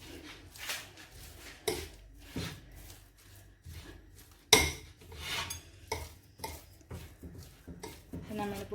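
A fork mashes boiled egg and potato in a bowl for an egg roll filling, with scattered clinks and scrapes of metal against the dish, irregular and close, with some quiet talk.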